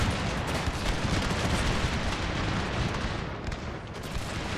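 Musket volleys and cannon fire from a Total War battle set in the Thirty Years' War, a dense, continuous crackle of gunfire and booming blasts at steady loudness throughout, with no talk.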